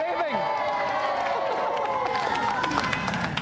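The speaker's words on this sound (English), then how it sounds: "Round of applause, please, for our undefeated champion, Golden Bomberman!" A studio audience claps and cheers loudly throughout, with a voice speaking over the noise.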